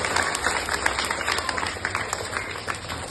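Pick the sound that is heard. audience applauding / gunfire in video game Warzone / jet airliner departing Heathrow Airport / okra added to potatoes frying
audience applauding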